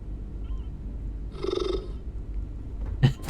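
A creature in Starfield gives a soft, rhythmic purr that rises briefly amid quiet background ambience, followed by a short sharp thump near the end.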